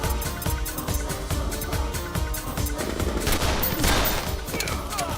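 Sustained gunfire from an action film set around a hacking raid, with rapid repeated shots and bursts layered over a dense, loud soundtrack for the whole stretch, no talk.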